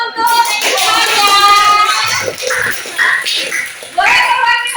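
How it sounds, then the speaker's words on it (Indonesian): A classroom of children clapping hands together at a teacher's prompt, a lively burst of applause mixed with children's voices and chatter throughout. "beri tepuk tangan dulu untuk semuanya"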